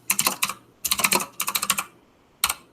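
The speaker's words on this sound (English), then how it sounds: "Sorry for my loud keyboard, by the way." Fast bursts of clattering keystrokes on a loud computer keyboard, several quick runs separated by short pauses, close and crisp.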